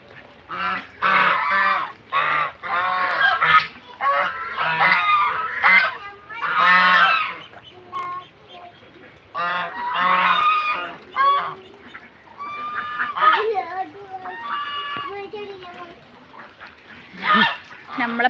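A flock of farm ducks in the rain quacks loudly and close in noisy, overlapping bursts with short pauses between.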